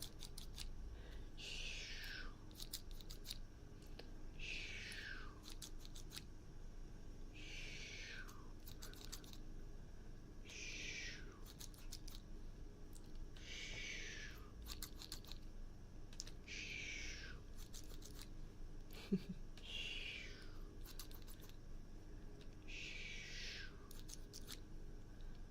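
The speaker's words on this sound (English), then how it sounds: "Do you hear how tiny these scissors are?" Tiny scissors snip in a steady rhythm, about eight crisp, light cuts spaced a few seconds apart, close and quiet against faint background hum.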